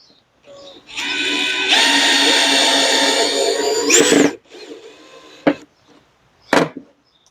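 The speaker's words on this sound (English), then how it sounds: "Pretty easy to drill, really lightweight." A Ryobi cordless drill whirs loudly for several seconds, its pitch rising as it bores into wood, then stops, followed by a few short clunks and taps.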